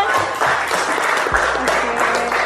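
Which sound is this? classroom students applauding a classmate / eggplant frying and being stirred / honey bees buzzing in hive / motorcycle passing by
classroom students applauding a classmate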